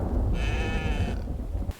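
A single drawn-out goat bleat from a video game, wavering and nasal, rises over a constant low rumbling background, then stops abruptly.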